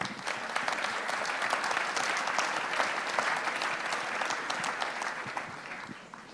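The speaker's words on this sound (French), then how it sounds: "On l'applaudit même à distance." Steady applause from a conference audience at a public debate fills the whole stretch, a dense continuous patter of clapping that fades slightly near the end.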